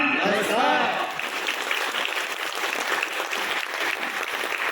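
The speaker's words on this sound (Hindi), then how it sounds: "तालियां मैं क्यों बजवा रहा हूँ आप लोगों के लिए" Loud, dense applause from a training seminar audience in Saharanpur, India, fills the space, steady and continuous, with a brief voice or cheer at the start.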